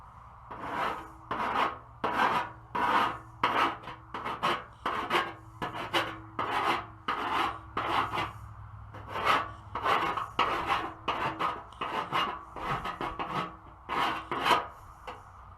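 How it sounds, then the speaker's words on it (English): A round file rasps along the cut edge of a Mustang fender during a drift-build angle kit install, giving close, rhythmic back-and-forth strokes, roughly two per second, with a few brief pauses. "And then I'll also use a round file underneath here."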